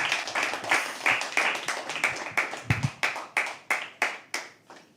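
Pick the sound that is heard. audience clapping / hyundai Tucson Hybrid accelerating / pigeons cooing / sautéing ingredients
audience clapping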